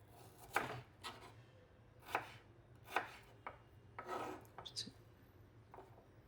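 Knife cutting shallots on a board for onion theyal, heard as about eight sharp chopping strikes at an uneven pace, close and moderately loud over a low steady hum.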